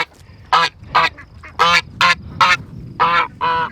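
Ducks on a family homestead quack loudly and close in a steady series of about eight harsh honking calls with short gaps between them.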